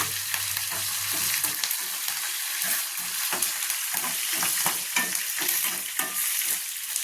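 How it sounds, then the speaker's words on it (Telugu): Curry leaves and dried red chilies sizzle and crackle in hot tempering oil for a pickle, a steady close frying hiss with occasional stirring scrapes and pops, no voices. "కరివేపాకు, ఎండుమిర్చి వేయాలి."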